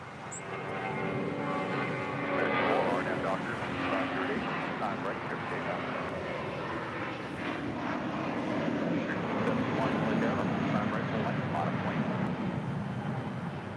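An airliner arriving from Toronto at Los Angeles International roars steadily and fairly close for the full stretch, its engine whine rising and falling slightly as it approaches, with a voice talking over it.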